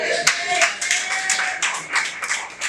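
A comedy show audience claps together in a steady, dense burst of many hands, fairly close and loud, with a brief voice or two mixed in.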